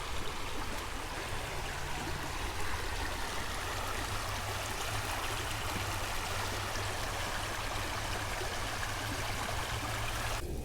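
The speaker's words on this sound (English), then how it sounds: "That water's rushing." A rushing creek beside a hiking trail in a wooded state park in Ohio, heard as a steady, continuous close wash of flowing water with no voices over it.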